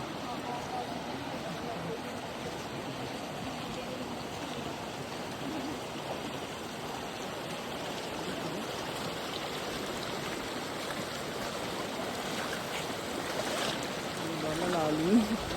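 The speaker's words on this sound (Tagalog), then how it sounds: "Tapos, dadaan tayo sa ilog." River water flows steadily along a rocky trail crossing on Mt. Pinatubo via the Botolan route, a continuous near rushing stream with no one speaking.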